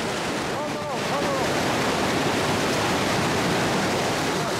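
Fast, powerful river water rushes through the Wadi Mujib canyon in Jordan as a loud, steady roar of churning current, close and continuous throughout.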